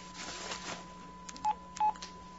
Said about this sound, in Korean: 내 휴대폰